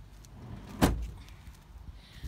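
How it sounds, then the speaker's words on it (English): A van's sliding door is slammed shut in one sharp, heavy thud near the middle, close by, with faint outdoor background before and after. "I'll shut the moving door."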